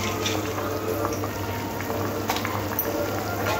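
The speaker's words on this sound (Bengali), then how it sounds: "ঝোলটা ফুটে উঠেছে, মোরলা মাছগুলো ঝোলের মধ্যে দিয়ে দেব" Mourola fish curry broth with ridge gourd simmers in a pot, giving a steady, fairly soft bubbling with small irregular pops and no talking.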